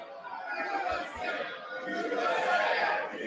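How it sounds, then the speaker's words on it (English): Crowd noise fills the chamber of a joint session of Congress, with steady murmuring and jeering that swells and holds throughout. Booing cannot be picked out clearly within the broad, continuous din. "Oh, they got people booing."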